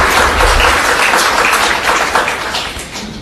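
Audience at a SIGGRAPH society meeting breaks into steady applause, a dense continuous patter of many hands, fairly loud and even throughout with a slight fade near the end.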